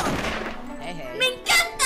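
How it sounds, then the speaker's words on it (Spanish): Fireworks pop and crackle in the Talking Tom Friends game, a few quick bright bursts near the end following a rising whistle, over light background music. "¡Hay fuegos artificiales, chicos! ¡Tocamos el cohete! ¡Y hay fuegos artificiales!"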